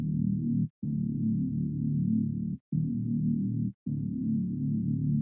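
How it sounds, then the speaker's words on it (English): Saw bass synth from an FL Studio remake, a low buzzy sustained tone in four long held notes separated by brief gaps, steady and solo. "I have a saw bass, and it sounds like this."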